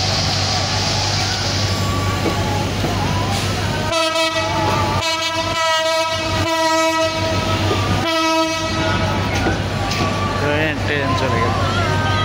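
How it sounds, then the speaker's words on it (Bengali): A train passes close by, its loud rumble running throughout with several long blasts of a horn in the middle, and a person speaks over the noise. "এই ট্রেনের স্পিড বেড়ে গেছে"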